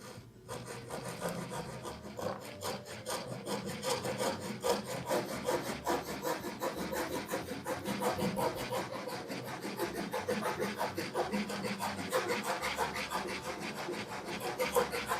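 A pull saw trims a piece of wood for a flip tool stand, close rhythmic rasping strokes repeating quickly and evenly throughout, with no talking.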